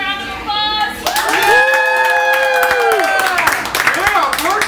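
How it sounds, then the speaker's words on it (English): A crowd claps and cheers for a 23-year-old's birthday in a Texas bar setting, with loud whoops and a long sung or shouted voiced cheer rising over the mixed clapping, close and lively. "Can we get a round of applause?"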